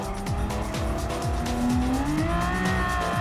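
Tires squeal on an Aston Martin Vulcan race car lapping Interlagos in Gran Turismo 7, a rising whine layered over the loud, steady engine roar with repeated gear-shift dips, continuous and close throughout.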